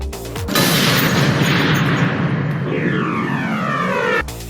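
Gunfire from a Metal Gear remake built in Unreal Engine: one loud sustained burst of shots with a booming, roaring body that runs for about four seconds and cuts off abruptly.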